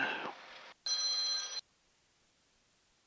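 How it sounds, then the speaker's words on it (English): A telephone rings inside a small aircraft cockpit during a flight, two bright electronic trill bursts with a short gap, then quiet hum and the start of a third ring. "And we got a phone call."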